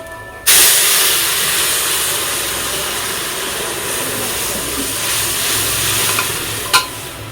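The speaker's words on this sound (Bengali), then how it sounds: "ডালটা ফুটে উঠেছে" Dal (lentils) bubbling in a covered pot in a home kitchen, a loud steady hiss and simmer that starts abruptly and holds, with a brief clink near the end.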